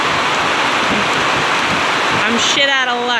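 Heavy rain pours steadily during a cycling trip in Cambodia, a loud, dense hiss throughout, with a voice speaking over it near the end.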